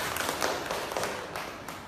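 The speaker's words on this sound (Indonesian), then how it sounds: "Oke, kasih tepuk tangan." A classroom of students clapping together, a soft, dense wash of overlapping hand claps that stays fairly even and quiet throughout, heard from a little distance.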